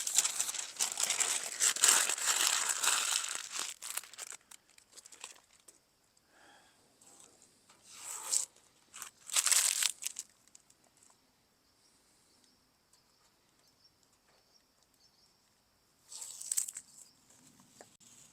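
Masking paper peeled off a freshly rattle-can spray-painted F600 pickup truck bed while the paint is still wet: faint crinkling and tearing in several short bursts separated by quiet gaps, close up, with no talk.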